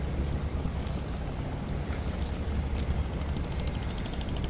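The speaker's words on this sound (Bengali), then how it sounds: "এই যে এটা বালির ট্রলার" A steady low engine rumble from a large sand-carrying trawler boat passing nearby on the Buriganga River, with broad water and wind noise, no voices.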